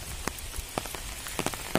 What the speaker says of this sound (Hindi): दोस्तों आप लोग देख पा रहे होंगे बारिश हो रहा है